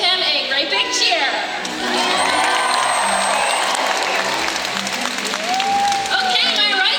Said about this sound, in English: go ahead and give him a great big cheer